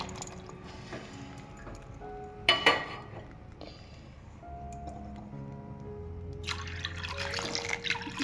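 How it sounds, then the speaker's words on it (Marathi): Water drains from washed dal in a kitchen vessel, with drips and a light pouring trickle, a brief louder splash and clink, then steady quiet liquid movement. "मग हे पाणी पण काढून टाकूया"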